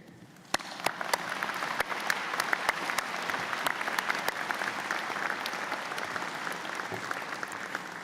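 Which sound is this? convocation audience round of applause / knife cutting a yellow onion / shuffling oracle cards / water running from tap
convocation audience round of applause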